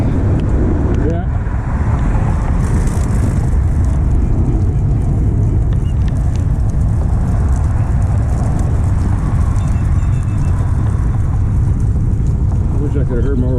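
Dense, constant car traffic roars along a Dallas roadway, a thick broadband wash with wind buffeting the microphone, loud enough to swamp any conversation nearby.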